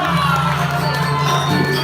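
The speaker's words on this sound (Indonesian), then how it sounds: "Ayo tepuk tangan semua" A live crowd at an outdoor Balinese music performance cheers and claps, a continuous roar of voices and shouts with a low steady hum beneath, fairly loud throughout.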